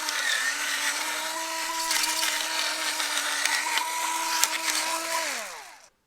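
Small electric salt and pepper grinder running on cracked black pepper, a steady close whirring motor hum with a gritty grinding hiss that holds for about five seconds and then winds down to stop.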